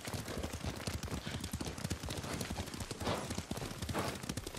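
Horse hooves clop in a steady, rapid rhythm as a rider travels on horseback in the video game Ghost of Tsushima, with a continuous close hoofbeat pattern throughout and no talk.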